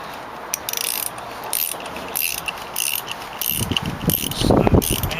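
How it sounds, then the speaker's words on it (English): A ratcheting wrench turns head bolts on a 394 Oldsmobile engine in a T-bucket roadster build, making quick bursts of close, crisp clicking in repeated strokes, growing busier and louder toward the end. "sliding the main head bolts up. I'll put about 20 pounds of torque on them."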